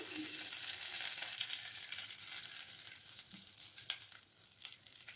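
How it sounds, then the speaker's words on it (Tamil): Oil heats in a kadai pan with a steady, close, crackling sizzle. The hissing tapers slightly toward the end, with no voices over it. "இந்த கடையில் கொஞ்சம் எண்ணெய் சேர்த்துக்கலாம்"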